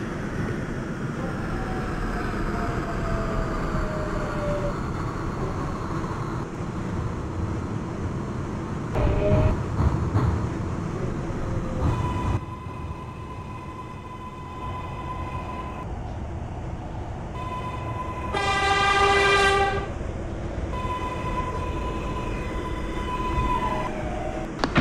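An NYCT R142A subway train on the 6 line, simulated in Openbve, hums and rolls steadily with rising and falling motor whine, a clunk near the middle and a brief electronic chime tone later, loud and close.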